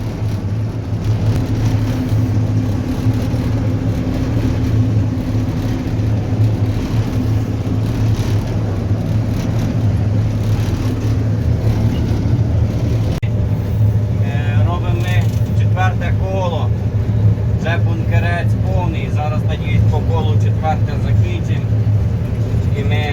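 A combine harvester threshing dry soybeans drones loudly and steadily throughout, its deep engine hum constant, with faint rattling from the threshing and a voice talking over it.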